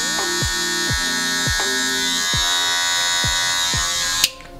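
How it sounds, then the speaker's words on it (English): Electric hair clipper cutting a taper fade on undercut dreadlocks: a close, steady buzzing drone with repeated short clicking strokes, ending in a sharp knock. "Whenever you're cutting your hair with the clipper"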